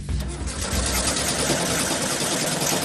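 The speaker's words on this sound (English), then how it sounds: "The Amigos need to start their engine before they can finalize the position of their extra axle" A junkyard-built beach rescue racer's engine cranks in a fast, even mechanical chatter that doesn't catch, loud and close with no voices over it.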